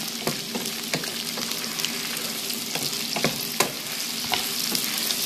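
Potatoes frying in plenty of oil for breakfast, a steady close crackling sizzle with scattered sharp pops and spatters throughout, no talk.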